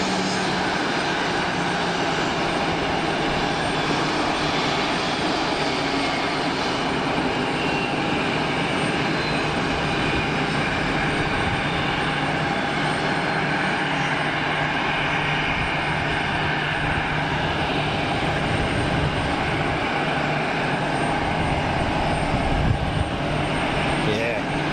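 Pratt & Whitney aircraft engines spooling down at an airport, a loud, steady broadband roar with a droning hum that holds throughout.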